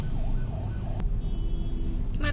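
An ambulance siren wails in traffic from behind a waiting vehicle, its rising and falling tone running steadily over a dense, loud road rumble for the whole stretch, with a brief sharp knock partway through.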